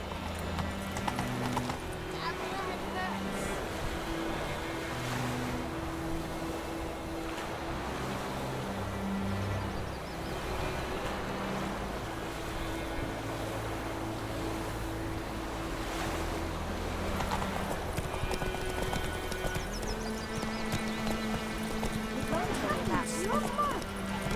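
Roach, a horse in The Witcher 3, galloping at a steady rhythmic clip-clop while background music plays and rushing wind or surf sounds in the distance.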